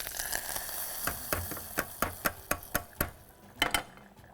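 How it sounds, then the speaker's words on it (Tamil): Mustard seeds and curry leaves tempering in hot oil: a close sizzle broken by a string of sharp, rhythmic pops and crackles, with no voices. "எண்ணெய் சூடாகிடுச்சு. இதில் கடுகு, கருவேப்பிலை தாளிச்சிடும்."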